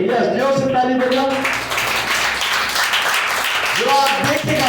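A church congregation claps together during a prayer and fasting revival service, a dense burst of applause filling the middle stretch while voices sound at the start and end.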